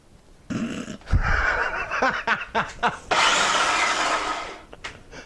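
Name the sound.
blender pureeing tomatoes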